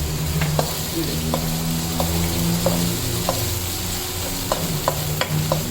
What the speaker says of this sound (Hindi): थोड़ा सा अदरक लहसुन के साथ इसको भून लें इस तरह करके, जैसे मैं भून लूँ